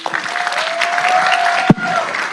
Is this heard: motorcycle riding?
no